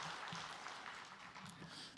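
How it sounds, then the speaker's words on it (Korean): A church congregation applauds during a Methodist service, a brief, soft patter of many hands clapping that sounds somewhat distant and fades slightly toward the end. "다시 한번 박수하겠습니다."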